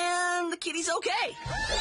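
A cartoon cat gives a short meow-like cry with rising and falling pitch, following a held animated voice and mixed with dialogue and sound effects.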